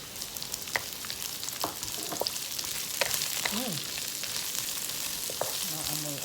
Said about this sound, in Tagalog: Ngayon, nag-brown na. Isunod na natin yung red onions.